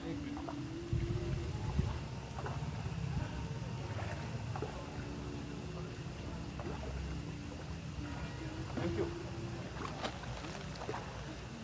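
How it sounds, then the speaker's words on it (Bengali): A boat moving along the Dawki river in Meghalaya, a low steady engine-like rumble and water wash running the whole time, with brief knocks and faint background sounds over it. "আমাদের পাশ দিয়ে আরেকটা নৌকা চলেছে"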